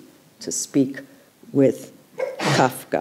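A single sneeze bursts out during a lecture, loud and close, with a person speaking just before and around it.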